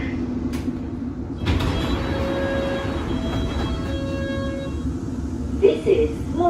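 A London Underground Metropolitan Line train running between stations, a steady rumble and rattle of wheels on track heard from inside the carriage, with a brief brake or door sound near the end.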